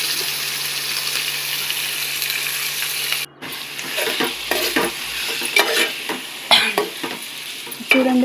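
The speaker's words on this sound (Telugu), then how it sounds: "తర్వాత అందులోకి శుభ్రంగా కడిగి పెట్టిన చికెన్ వేయాలండి. చికెన్ కూడా వేసి కలుపుకోండి." Washed chicken pieces stirred into hot tempering in a pan for a simple chicken curry, giving a steady close sizzle and frying hiss with repeated scraping stir strokes and small clatters throughout.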